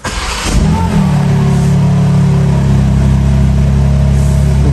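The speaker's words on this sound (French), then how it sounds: "Donc je vais démarrer donc avec les clapets fermés." A BMW M3 G80 Competition engine cranks and fires up with exhaust valves closed, a loud roar, then settles into a deep, steady, rumbling idle close by.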